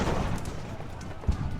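Cannon fire from the ship Scarborough in the naval battle game Ultimate Admiral Age of Sail, heard as a dense, continuous rumble of gunfire with one sharper thump near the end.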